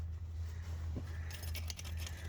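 A bunch of keys jangles and clinks while someone works on the valve cover of a 1991 Ford F-350 IDI diesel, a short metallic rattle over a low background hum.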